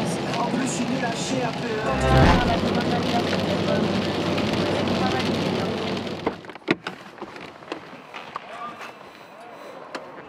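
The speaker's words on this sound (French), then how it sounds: "Ça fait trop bizarre de voir de la pluie ici." Heavy rain drums steadily on a moving car while driving, loud and dense for about six seconds before easing into scattered drops and knocks, with people talking inside.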